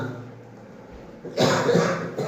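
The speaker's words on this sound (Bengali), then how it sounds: "সরি, কাশি হয়েছিল ভালোই।" After a quiet stretch, a harsh, close cough bursts out, followed shortly by another short cough.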